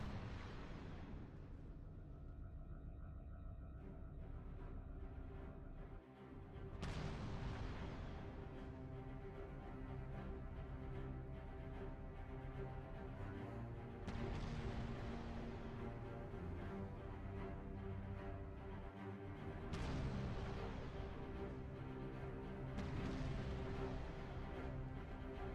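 Wraith mortar fire from a modded Halo game in Master Chief Collection, deep booming blasts roughly every six seconds, each a heavy low thump that rolls out over a droning game background.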